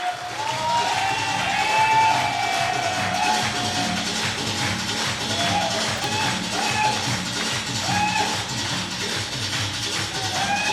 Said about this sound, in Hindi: जोरदार तालियों से हम स्वागत करेंगे उनका